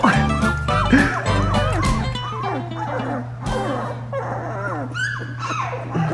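Fox red Labrador puppies whimper, yip and bark over one another, loud and close, with a steady low hum in the background.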